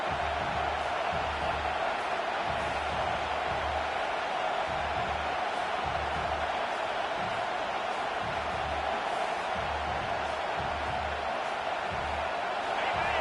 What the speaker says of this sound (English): this crowd trying to help this defense rise to the occasion